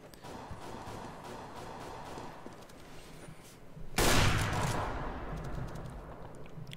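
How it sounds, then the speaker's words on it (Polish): Gunfire in the shooter game Overwatch: a loud, sudden blast midway that dies down over a second or two, with faint scattered battle sounds before it. "Tam się strzela z rywalami"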